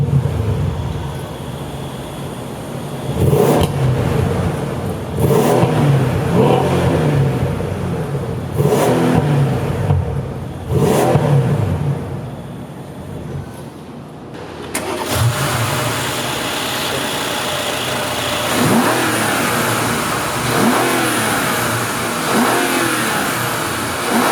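A 2015 Mercedes-AMG S63 4Matic with the twin-turbo 5.5-liter V8 barks through repeated loud revs, each surge rising and falling, then settles into a steady rumbling idle close by.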